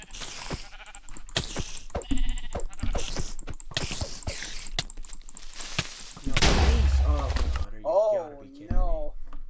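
Sheep bleating in the Minecraft video game, repeated wavering bleats near the end of the stretch, heard amid busy game noises, thuds and someone talking throughout.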